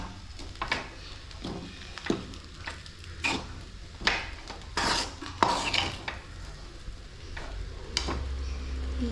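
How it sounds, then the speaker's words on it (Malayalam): Sago being stirred and mixed into upma in a pan, with repeated close scraping and clinking strokes of a spoon against the metal in an irregular rhythm, with no voices. "ഈ ചൊവ്വരി ഇതിലോട്ട് മിക്സ് ചെയ്യാം നന്നായി മിക്സ് ചെയ്ത് യോജിപ്പിച്ച് കൊടുക്കാം"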